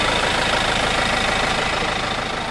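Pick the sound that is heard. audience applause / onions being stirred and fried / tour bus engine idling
tour bus engine idling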